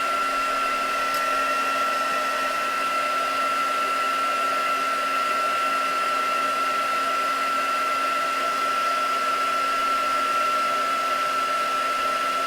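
A hair dryer drying craft pieces, blowing at a constant whining drone that holds steady and close with no pauses.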